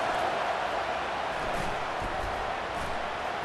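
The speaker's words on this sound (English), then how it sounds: "And how nice is it to have the home crowd going absolutely bananas?" In a college football video game, a home crowd cheers in a continuous, loud stadium roar that stays steady and distant-sounding, with no pauses.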